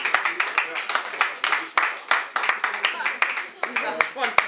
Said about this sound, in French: Je peux vous applaudir, excellent choix. Bravo les mecs.